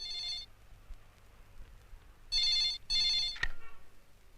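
A telephone rings in a 1993 Hindi film: one short ring, a pause, then two more quick ring bursts, ending with a sharp click as the receiver is picked up.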